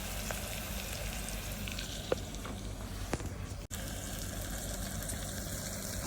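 Chicken curry gravy base frying in a pan until brown, a steady close sizzle with faint stirring clicks and one brief dip midway, no talking.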